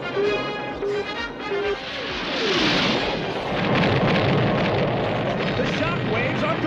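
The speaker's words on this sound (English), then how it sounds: "There's the explosion." A deep, rumbling explosion in the G.I. Joe animated series swells into a sustained roaring blast after a few brief tones, loud and close, rolling on for several seconds.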